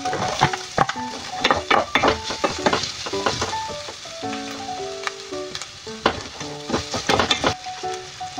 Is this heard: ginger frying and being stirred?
yes